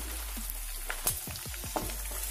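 Mustard seeds, cumin, garlic, green chili and curry leaves sizzle in hot oil in a pan, a steady frying hiss broken by several sharp crackling pops, close and alone with no talk.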